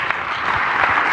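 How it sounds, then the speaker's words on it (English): An event audience gives a round of applause, a steady wash of close, dense clapping with no voices over it. "Big round of applause"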